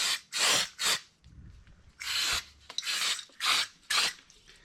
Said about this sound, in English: So the next step will be to just get a bit of brake clean.